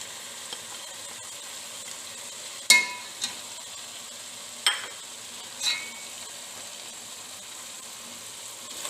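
Fried bitter gourd and fried potato chips dropped into a sizzling pan and stirred, a steady soft frying hiss broken by a few sharp scraping clinks of the spoon.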